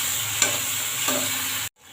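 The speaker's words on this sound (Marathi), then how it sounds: "फोडणीला थोडी कोथिंबीर टाकायची" Coriander drops into a sizzling tempering for toor dal, giving a steady close hiss of hot oil with a couple of faint clicks before the sound cuts off abruptly.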